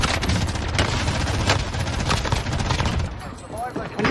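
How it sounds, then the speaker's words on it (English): Machine gun fire in an online shooter game, continuous rapid bursts of shots that fill the whole stretch, loud and close, with a player's voice talking underneath. "He's got an MG."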